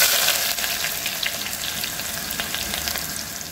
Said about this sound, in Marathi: आता याच्यामध्ये कढीपत्ता टाकायचा आहे आणि कांदा टाकून द्यायचा आहे।